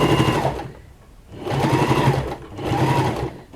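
A sewing machine stitches lace onto a shabby chic wall hanging in three close, rapid whirring bursts separated by brief pauses.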